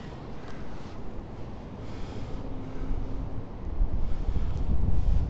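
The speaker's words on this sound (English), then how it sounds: "The wind blew over the tripod." Strong wind buffets the microphone at an outdoor duck pond in a park, a steady broadband roar that swells louder toward the end, with no talking.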